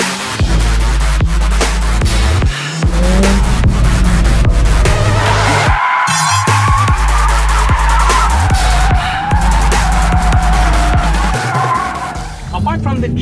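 A 2022 Mercedes-AMG A45S in drift mode slides with loud, sustained tire squeal over a deep, steady engine roar, broken by brief gaps in the revs, under ongoing speech.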